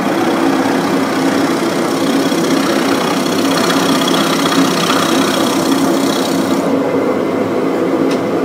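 Wood lathe turning a bowl-like box, a steady loud motor whir with continuous cutting noise throughout, tone shifting slightly near the end, no talking.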